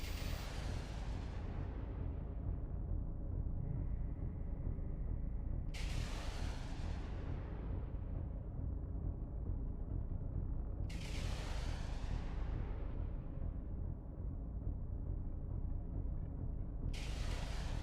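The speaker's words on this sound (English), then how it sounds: "it's taking a little bit longer to shoot the little ones because the cruise missiles have a larger explosion radius" Cruise missiles in EVE Online detonate in four big blasts spaced roughly five seconds apart. Each one is a loud, sudden roar that trails off slowly, heard over a constant deep low rumble with no talking.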